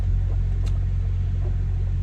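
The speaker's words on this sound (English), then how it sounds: "My truck's making a noise settling down." A truck settling down after being shut off gives a steady low rumble that holds constant throughout, loud and close, with a faint brief tick partway through and no voices.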